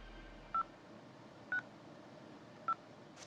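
A telephone number being dialed, three short evenly spaced touch-tone beeps over a soft steady hiss, with no voices.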